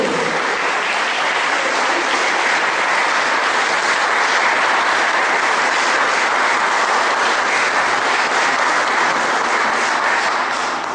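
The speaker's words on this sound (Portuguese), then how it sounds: "Você pode aplaudir o Senhor Jesus? Bem forte para Ele." A church congregation applauds loudly at a Portuguese-language worship service. The clapping is a dense, sustained roar that holds at a constant high level for about eleven seconds with no voices on top.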